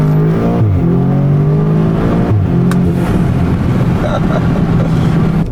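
An Audi S3 or VW Golf running an Integrated Engineering crackle tune revs up and falls back repeatedly, its engine loud and close with pitch sweeps and sharp pops near the end.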